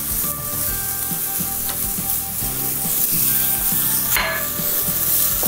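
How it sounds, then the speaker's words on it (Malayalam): Tomatoes go into a pan of cooked broccoli for a keto salad, setting off a steady loud sizzle and frying hiss with a few stirring clatters throughout, alone without voices. "തക്കാളി ഇട്ട് വെക്കാം."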